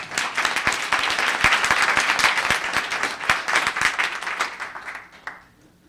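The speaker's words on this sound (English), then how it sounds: "Let's give her a round of applause." Sustained round of applause from an audience at a Los Gatos town council meeting, dense steady clapping for about five seconds before tapering off into quiet.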